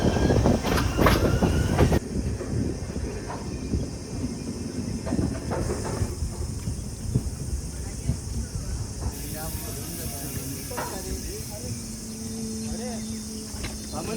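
A train rumbles steadily along the tracks with a constant hiss and rattling, close by, while faint voices murmur in the background, in Canacona, Goa.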